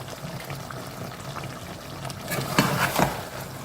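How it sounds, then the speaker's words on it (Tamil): Water is poured into a frying chicken fry in a home kitchen: a soft, steady pour with sizzling and a couple of louder splashes toward the end. "தண்ணியெல்லாம் ஊற்றுறாங்கன்னா வறுவல் தான் பண்ணுறோம்"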